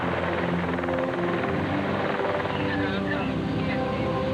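A medevac helicopter at a roadside crash scene runs steadily throughout, its rotor and engine drone loud and continuous, with faint voices mixed beneath the noise.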